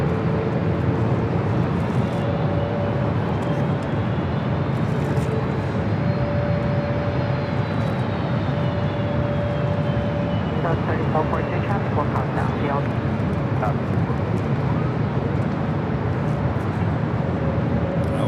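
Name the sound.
British Airways Boeing 777-300ER landing at LAX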